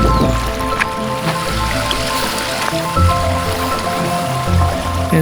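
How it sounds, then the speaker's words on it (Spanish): Water runs steadily along an irrigation canal beside a trail near El Saltillo in Málaga, a continuous close murmuring rush with small splashes throughout. "Entre el ver correr el agua y oír su murmullo"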